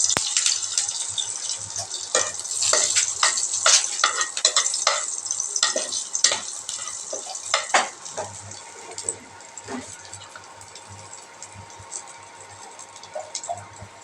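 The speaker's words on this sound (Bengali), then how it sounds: "হয়ে গেছে ফোড়নটা ভাজা।" A spice tempering with bay leaf, dried red chillies and green chillies fries in a pan, sizzling and crackling in dense bursts that gradually settle into a softer sizzle, with some stirring.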